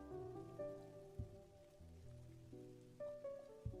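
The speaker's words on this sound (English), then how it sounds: "Says this rain music will put PPL to sleep." Soft sleep-style rain music plays quietly in the background: gentle rainfall mixed with sustained, mellow tones that shift every second or so, with a few low thumps and no voices.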